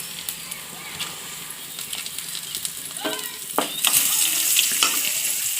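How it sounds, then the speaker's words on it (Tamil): Urad dal and dried red chillies frying in hot oil, a crackling sizzle punctuated by spoon scrapes that swells louder and brighter toward the end. "இப்போது நம்ம ஆல்ரெடி எடுத்து வச்சுருக்கேன் அந்த உளுந்து பருப்பை எண்ணெயில் போடலாம் காய்ந்த மிளகாய்"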